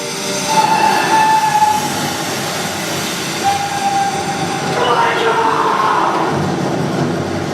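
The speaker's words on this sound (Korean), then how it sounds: "승객을 태운 기차는 무사히 다리를 건너게 됩니다." A passenger train rolls across a bridge in a steady, loud rumble and rattle, with brief tonal whistle-like lines riding over the continuous roar.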